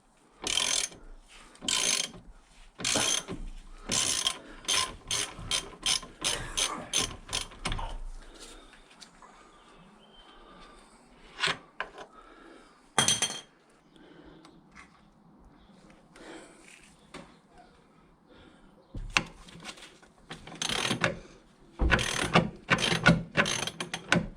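A ratchet undoes the bolts on a Triumph TR7's suspension, a British Leyland car with an 11/16 nut and a 5/8 bolt head. Fast bursts of close, loud clicking stop and start several times, with quieter clinks between them.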